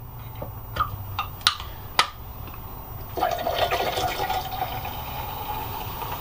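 Tonic water pours into a glass aboard a narrowboat with a fizzy, bubbling hiss after a few sharp clinks and taps, close by and fairly quiet.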